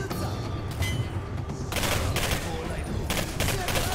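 Dense, continuous gunfire from the video game Singularity, rapid overlapping shots and booms forming a loud sustained barrage close up with no pauses.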